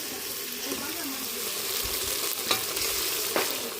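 Onions and tomatoes fry in a pan, a soft continuous sizzle with occasional spoon taps and stirring knocks, fairly quiet with a watery hiss beneath.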